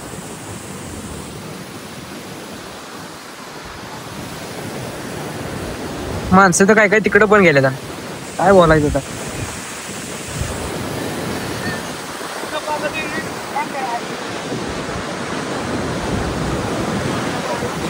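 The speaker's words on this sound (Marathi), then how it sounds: "तर बघा कसला पाण्याचा प्रवाह आहे" The flooded Krishna river at Wai rushes as a continuous loud roar of water with wind buffeting. Someone talks briefly over it partway through.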